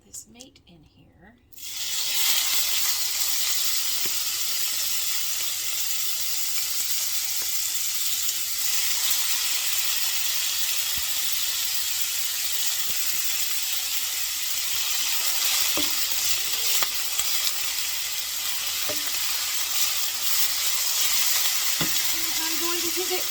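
Cheesesteak meat dropped into hot olive oil in a pan bursts into a loud, steady, close sizzle that carries on unbroken for about twenty seconds.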